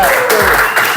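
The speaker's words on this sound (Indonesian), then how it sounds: "tepuk tangan untuk Farhan" A classroom of students claps briefly for a classmate, a short loud burst of hand claps with voices mixed in.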